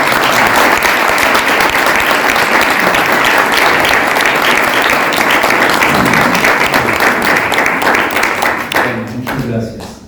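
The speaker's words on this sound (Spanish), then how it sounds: "le damos un gran aplauso" An audience at an international academic colloquium gives loud, sustained applause with dense clapping that continues for several seconds before tapering off, and a voice begins speaking as it fades.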